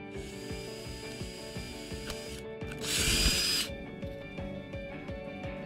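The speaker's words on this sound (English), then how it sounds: "drill several drainage holes in the bottom of the gourd" A power drill whirs in short bursts with repeated clicks and knocks as it bores drainage holes in a gourd, rising into a louder, harsher grinding stretch midway before settling back.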